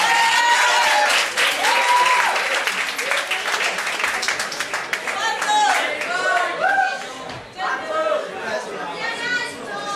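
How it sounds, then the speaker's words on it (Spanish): A school class applauds, clapping dense and loud at first, then thinning into scattered claps mixed with lively chatter and voices of students. "Un aplauso."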